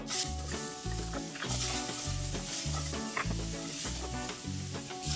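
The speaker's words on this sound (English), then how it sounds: "We got some wonderful vegetable oil in there. We are putting in onions and garlic to start." Onions and garlic fry in hot vegetable oil in a skillet, a steady close sizzle and crackle running throughout with a rhythmic stirring or scraping pattern underneath.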